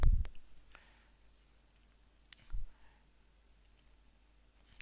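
A few sharp computer mouse clicks spaced out over a quiet background, sounding close and fairly soft, with no speech.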